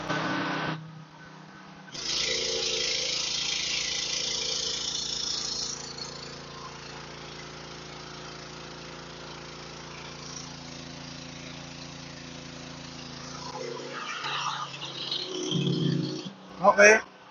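A PK160 generator runs under test at high ampere settings, giving a steady mechanical hum that starts abruptly, stays constant for several seconds, then settles lower before brief louder bursts near the end.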